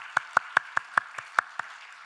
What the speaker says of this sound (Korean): 우리 고등부에게 박수를.